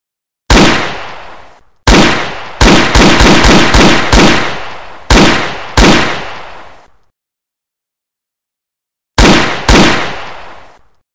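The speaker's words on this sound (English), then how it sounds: "Like, who's shooting their house?" Gunshots fired inside a house, a string of very loud, sharp bangs with echoing decay, several in rapid succession, then a long silence and two more shots.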